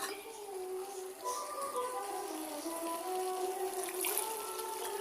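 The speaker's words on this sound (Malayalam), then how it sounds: "വെള്ളം കൂടി ചേർത്ത് കൊടുക്കാം." Water poured into a thick ground-paste curry of dried prawns and snake gourd, a continuous close gurgling splash that stays steady throughout the pour.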